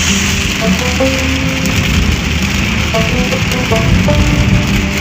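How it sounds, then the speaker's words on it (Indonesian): Steady rain falls during a ride along a smooth road in the Songka area, a dense continuous hiss over a low vehicle rumble with a few faint tonal chirps. "Masih hujan terus."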